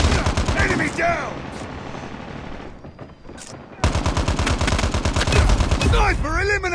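Machine gun fire in the mobile shooter Call of Duty Mobile, loud fast bursts of automatic shots interrupted by a short lull, with game voice callouts heard between and over the firing.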